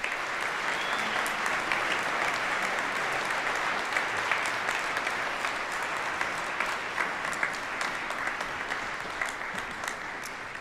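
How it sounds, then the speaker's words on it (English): Sustained applause from a large crowd at a university choir and symphony orchestra oratorio concert, dense and steady, with a few individual claps standing out as it slowly tapers. "How about a round of applause?"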